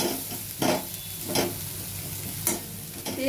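Paneer korma masala cooks in oil in a pan until the oil separates, giving a steady soft sizzle with a few brief scraping stirs at intervals, close and moderately loud.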